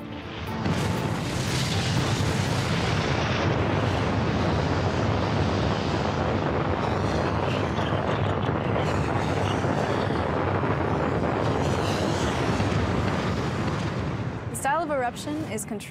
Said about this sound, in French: Il en résulte une explosion d'une rare violence.